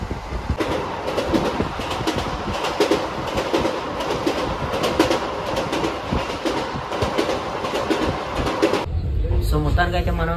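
The Palnadu superfast express rumbles along the tracks with a steady clickety-clack and wheel noise heard from near the rear of the train, then the sound cuts off sharply near the end.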